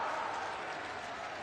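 A crowd at a political rally in Chittorgarh applauds steadily, a dense wash of clapping hands sustained throughout the short stretch at a moderate distance.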